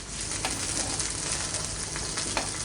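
Squid roast frying in a pan, stirred and mixed as it reduces over the heat, a continuous moderate sizzle with a few sharp scrapes of the utensil and no voices.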